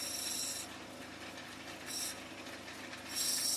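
An opal crystal is ground on a 180 grit wheel, bursts of gritty hissing abrasion coming three times in short passes between quieter whirring, close and fairly faint.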